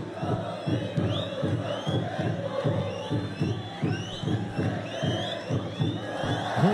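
Stadium crowd noise from a PES 2021 football match between Atlético GO and Corinthians, a steady loud roar of cheering fans with rhythmic surges throughout.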